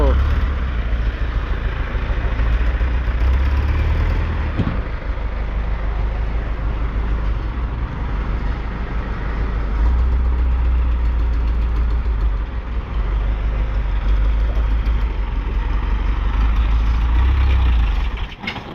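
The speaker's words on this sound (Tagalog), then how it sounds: "Hindi na yata pinadugtong yung tambutso." A loud, rough engine with a disconnected exhaust pipe idles steadily for a long stretch, its deep rumbling exhaust constant and unmuffled.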